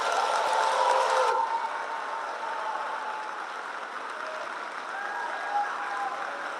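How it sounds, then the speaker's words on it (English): An audience applauds graduating eighth-grade students at a middle school moving-on ceremony, a steady, even patter of clapping in a large room that softens after the first second and carries on at a lower level. "Please give them a round of applause."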